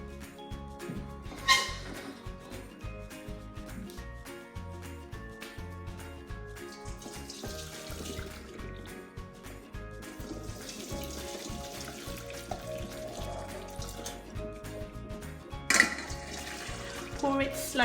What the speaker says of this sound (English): Okay, so I'm going to pour it into my colander.